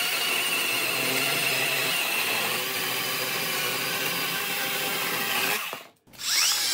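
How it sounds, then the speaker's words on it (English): A chainsaw roars steadily through a maple log, a continuous buzzing whine that cuts out abruptly near the end, then briefly revs back up. "So using a chainsaw here to get the log to a somewhat round shape."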